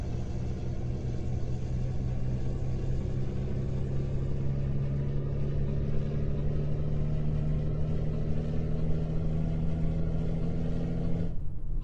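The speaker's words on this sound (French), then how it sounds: "Le bruit du camion est juste magnifique." A heavy truck engine in Euro Truck Simulator 2 drones steadily at close range with a deep, even rumble, running without pause before cutting off abruptly near the end.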